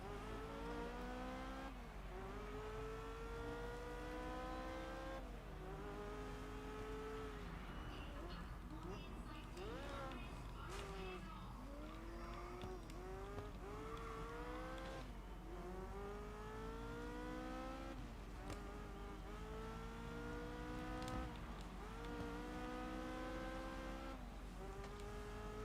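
Race car engines in a racing video game rev and shift up through the gears over and over, with rising, whining pitch sweeps and occasional tire noise, a continuous loud drone lasting throughout.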